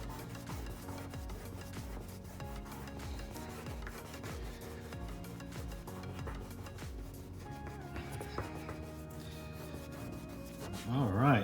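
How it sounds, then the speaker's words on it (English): Stubborn dried paint is rubbed off a window with repeated back-and-forth scrubbing strokes, a fairly quiet, close rasping that continues steadily, with faint voice in the background. "I didn't want to be rubbing on dry paint"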